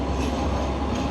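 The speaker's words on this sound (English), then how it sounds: "Here's another train" A Sydney city train or light rail running close by, a steady loud rumble of wheels and rail noise with no voices.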